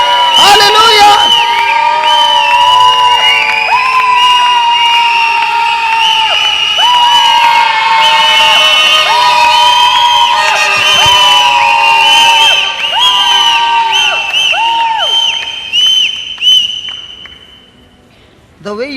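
A large church audience screams and cheers without pause, shrill whoops and whistles layered into a dense, loud roar that holds steady before dropping off near the end.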